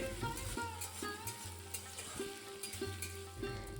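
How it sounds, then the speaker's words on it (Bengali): Ginger paste and green chili stirred in hot oil for a pumpkin curry: a continuous close sizzle with light stirring scrapes, brief and without any voices. "কয়েক সেকেন্ড আমি তেলের মধ্যে এটা নাড়াচাড়া করব"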